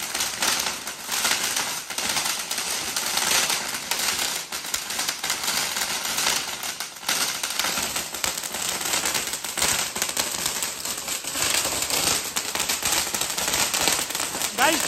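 Dense, rapid crackling of firecrackers bursting continuously for several seconds during a celebration of an India win, loud and close, with a constant sputtering texture.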